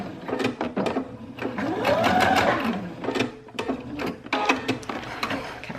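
A sewing machine back stitches along the edge of a fabric book cover, its needle hammering in quick bursts with brief pauses and a rising then falling whine as it slows, close and fairly loud.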